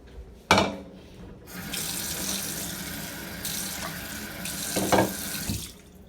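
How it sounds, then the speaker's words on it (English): A tap runs into a sink while water is added to a stir-fry of rice vermicelli, with a sharp clatter at the start, steady splashing flow and a few clunks near the end. "Let's add a little bit more water."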